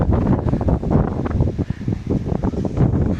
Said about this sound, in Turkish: Yine rüzgar çıktı.